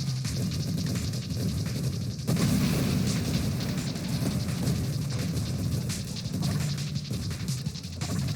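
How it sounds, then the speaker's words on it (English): Continuous explosions from the space shooter game Nova Drift, a dense, loud rumble of overlapping crashes and booms with a sharper burst near the two-second mark, sustained without pause and no talking. "Cannot tell where the explosions begin from them and the explosions from me begin."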